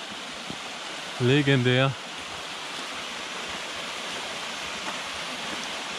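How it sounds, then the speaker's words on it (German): A waterfall on an Alpine cycling route near Attersee gives a steady, loud broadband rush that runs unbroken through the whole clip, with one brief spoken word over it. "So ein Wasserfall."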